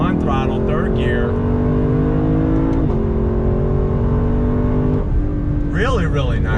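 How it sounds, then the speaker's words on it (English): A 2019 Lexus LC 500 accelerates on throttle in third gear, its engine drone climbing steadily in pitch and dropping briefly at upshifts, loud and continuous from the cabin with someone speaking over it. "how they were able to balance the sound of the engine and not let any other sound from outside get into the car"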